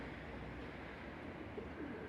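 Homing pigeons give soft, low cooing against a steady background rumble, faint and somewhat distant over a couple of seconds, with no one speaking.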